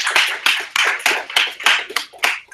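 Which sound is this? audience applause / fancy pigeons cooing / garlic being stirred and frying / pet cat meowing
audience applause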